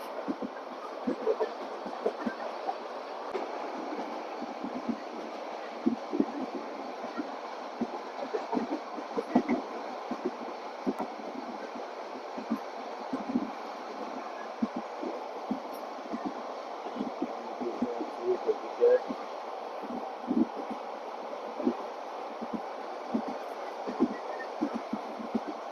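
Passenger train from Cox's Bazar to Dhaka, Bangladesh, heard from on board: a steady, continuous rumble and rattle of the carriages with faint rhythmic clacks, running without a break and with no talk.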